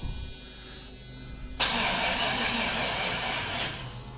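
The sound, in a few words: LS engine cranking over in Squarebody truck without firing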